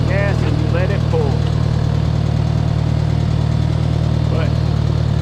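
An International Harvester 140 tractor engine held in first gear with a little throttle, pulling a load as it skids. A steady low engine drone runs throughout, with some voices over it early and again near the end.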